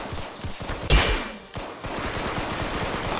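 Rapid video game gunfire from Roblox Arsenal crackles in dense bursts, broken by a short gap and a sharper blast, then continues in a steady stream of shots.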